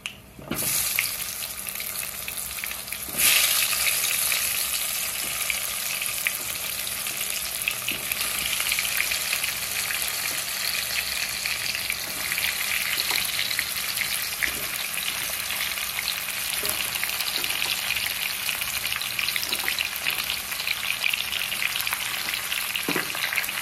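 Mango pieces for pickle fry in hot oil alongside already-fried red chillies, a loud continuous sizzle that jumps in intensity after a few seconds and then crackles steadily without talk.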